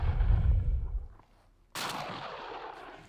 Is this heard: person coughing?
no